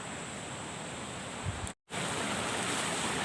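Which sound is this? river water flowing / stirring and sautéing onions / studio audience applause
river water flowing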